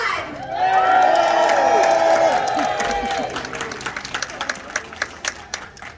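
An audience at a sea lion show at a safari park cheers loudly with excited voices and children's shouts, then the cheering fades into scattered rhythmic clapping near the end.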